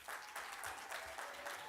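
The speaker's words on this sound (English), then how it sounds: "Let's clap for them once again." A crowd applauds the Dance and Beats Culture Troupe at a Ugandan creative-sector event, a faint, continuous ripple of clapping hands heard from a distance over the brief stretch.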